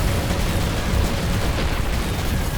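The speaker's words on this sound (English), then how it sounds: "Get the cannon firing!" Heavy spaceship cannon fire in the space game Avorion, a dense, continuous roar of booming blasts and explosions that stays loud and unbroken throughout.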